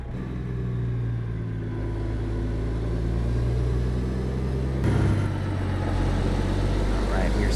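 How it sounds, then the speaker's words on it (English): Low, steady engine rumble of a city LTL delivery truck with trailer rolling through a Santa Cruz lot and swinging around to park, continuous and close, with a brief clunk midway. "we are gonna drive through, get spun around, and park right here on the left"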